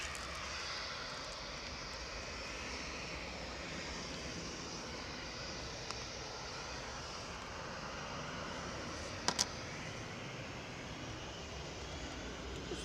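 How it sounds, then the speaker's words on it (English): Distant, faint broadband roar of a Boeing 737-800 airliner departing Manchester Airport, a steady low rumble and hiss with no talk and only a couple of small clicks. "737-800 departing there."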